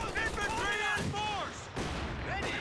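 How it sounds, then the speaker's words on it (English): Mortar half-tracks firing a barrage in the strategy game Company of Heroes 2, muffled booms and rumbling blasts mixed with whistling shells and battle noise, with a voice talking over it. "It's got the double mortar half-tracks over here though. Getting to work with the barrage."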